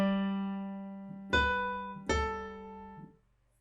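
A few sustained piano notes ring out, two louder chords struck about a second apart, each decaying slowly, heard alone in a quiet room.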